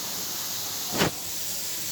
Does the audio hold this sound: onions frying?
yes